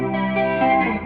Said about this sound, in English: So that was flanger.